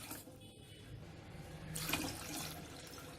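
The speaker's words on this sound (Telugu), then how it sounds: "ఈ విధంగా ఒక 2 గ్లాసులు నీళ్లు వేసేసుకోవాలి" Water pours from a vessel into a pot of raw eggs while egg pachadi is prepared. It comes as a soft, close splash and gurgle that swells briefly midway.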